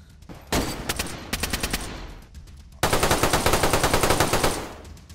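Rapid bursts of automatic gunfire in DayZ during a base raid, a short burst first, then a longer sustained stream of loud, evenly spaced shots.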